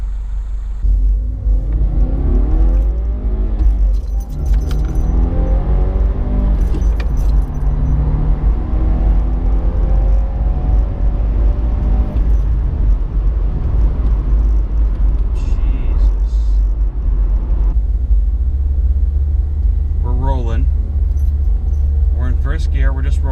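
A 2016 Subaru WRX tuned with a Cobb Accessport drives off, its engine rumbling loud and close with rising and falling pitch through gear changes, and voices talking over it now and then.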